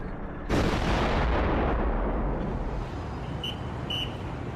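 Artillery fire from the 1967 Six Day War opens with a sudden heavy blast that swells into a loud, sustained rumbling barrage, holding steady and full for several seconds with no voices over it.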